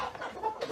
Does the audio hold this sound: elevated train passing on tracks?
no